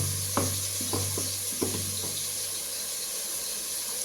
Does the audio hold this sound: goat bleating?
no